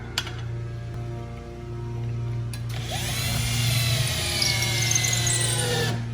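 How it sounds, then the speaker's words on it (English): A power drill bores pilot holes into a wooden wall header for a mini split install. A steady motor hum builds into a loud, rising whine as the bit bites in, with a low tonal drone underneath. "Now we can drill some pilot holes."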